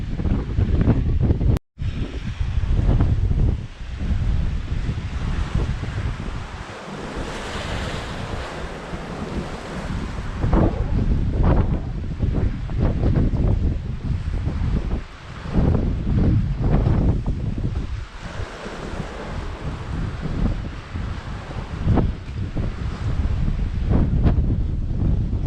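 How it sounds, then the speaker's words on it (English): Strong wind buffets the microphone while sea waves surge and break at Palmanova, Mallorca, a loud continuous roar with repeated swells and gusts throughout. "it seems to be getting more and more windy, and the waves seem to be getting bigger and bigger"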